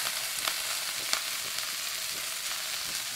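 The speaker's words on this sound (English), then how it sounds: "They can cook directly in the olive oil and start to pick up a little bit of flavor" Broccoli rabe cooks in olive oil with red chili flakes, giving off a soft, even sizzle with a few faint clicks of stirring, heard up close and without speech.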